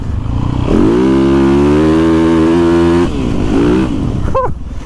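A Yamaha YZ450FX 450cc dirt bike engine revs up loud and close, climbing through a sustained throttle pull, then easing off briefly before picking up again.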